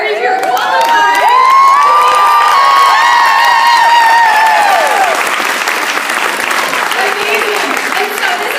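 A large audience at a career event bursts into loud, sustained applause and cheering, with whoops and raised voices over the clapping before it settles into steady clapping.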